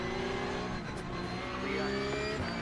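A Porsche Cup race car in iRacing sweeps past at speed, its loud, steady engine note filling the moment with a slight pitch shift as it draws alongside and goes by.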